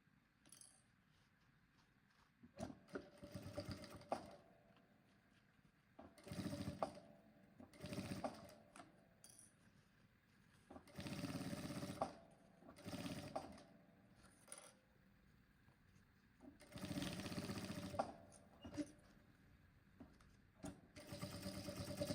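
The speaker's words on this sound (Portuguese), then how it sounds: "E aqui nessa parte que não tá dobrada, eu passo uma costura reta." A sewing machine runs a straight seam on a fabric bag, its motor hum coming in repeated bursts of varying length with pauses between, fairly faint and close.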